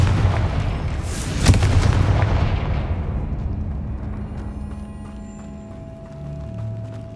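A Hogwarts Legacy Confringo fire blast goes off as a loud booming burst with a sharp crack. It rumbles on and fades over several seconds into a low sustained tone.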